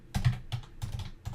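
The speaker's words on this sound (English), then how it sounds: "I'm going to pause the video here so you don't have to watch me do all this manually typing" Fingers tapping on a computer keyboard in quick bursts of close keystrokes, a few clusters of clicks separated by short pauses, with no talking.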